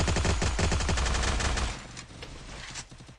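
Gunfire in a video game, heard as a loud, rapid volley of repeated shots that cuts off partway through, leaving quieter scattered noise after.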